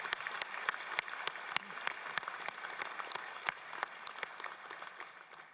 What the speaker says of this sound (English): Could we all give them a warm round of applause to everyone who supported you?